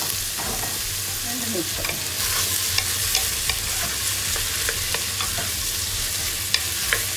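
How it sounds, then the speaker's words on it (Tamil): Chopped bottle gourd sautéing in hot oil, a steady close sizzle with scattered stirring clicks and scrapes throughout. "இப்போ இந்த சுரக்காயை நல்லா வதக்கிட்டு"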